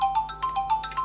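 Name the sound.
phone ringtone, incoming call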